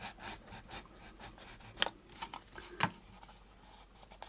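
An AMT Turbo elevator shaft plastic model kit part being scraped with a tool: soft, rhythmic rasping strokes close by, fairly quiet, with two sharper scrapes.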